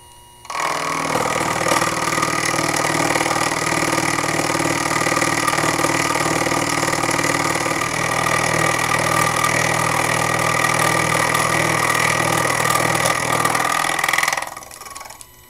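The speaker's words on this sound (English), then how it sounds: "allowed me to have a single setup to mill all 8 squares to the same thickness" A Proxxon FF230 milling machine cuts 316 stainless steel squares with a cheap 12mm two-insert carbide end mill. The near, loud and steady motor and cutting drone runs unbroken for about fourteen seconds, then stops abruptly.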